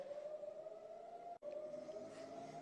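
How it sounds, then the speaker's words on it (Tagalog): An air raid siren in Israel warns of a Hamas rocket attack at ten at night, a faint, distant steady wailing tone with one brief dropout partway through. "After 1 week, meron na naman sirena. May pinadala na naman ni Hamas na rocket dito sa Israel."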